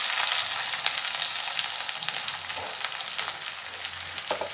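Chopped garlic, ginger, onion and dried chilies frying in a pan, a bright, close crackling sizzle with scattered pops and light stirring scrapes.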